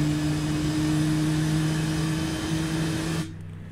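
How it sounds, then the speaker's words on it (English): Airliner engine number 1 spooling up in a flight simulator, a steady loud turbine drone with strong sustained tones that holds for about three seconds before dropping sharply to a quieter hum. "Okay, engine 1 starting up."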